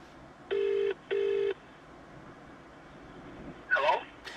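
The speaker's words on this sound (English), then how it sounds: "So what I'll do is I'll now just pick up the phone and call another investor." An outgoing phone call rings over the handset speaker, two evenly spaced buzzy ring tones, then a quiet pause before a voice answers at the other end.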